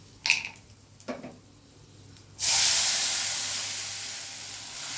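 Asafoetida and spices tipped into hot oil in a Gujarati home kitchen, a couple of light clinks and then a sudden loud, sustained sizzle that hisses on steadily, close up and with no voices.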